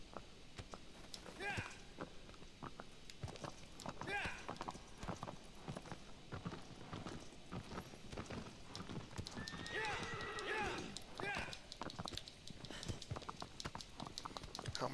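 Horse hooves clip-clopping in the video game Shadow of the Colossus, a rhythmic run of hoofbeats with occasional whinnies, heard under a voice talking over the game.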